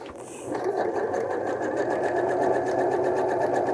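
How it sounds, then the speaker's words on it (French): A sewing machine stitches a seam while a zipper fly is being set, giving a close, steady mechanical whir that runs on evenly after a short start. "Et nous allons faire une couture à ce niveau-là."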